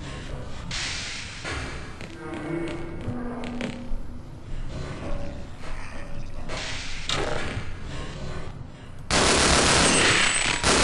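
Gunfire in Half-Life, scattered bursts and single shots amid thuds and game clatter, ending in a loud sustained volley.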